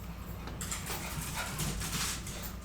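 A dog stirs about in a home, giving soft whimpers and shuffling noises that stay fairly steady over a low background hum, with no clear barks.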